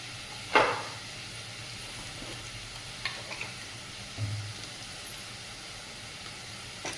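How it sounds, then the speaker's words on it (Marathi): Vegetables stir-fry with turmeric, chili powder and spices in a pan, giving a low continuous sizzle with one sharp scrape early on and a few lighter stirring knocks afterward. "आणि आता व्यवस्थित असं परतून घेऊया"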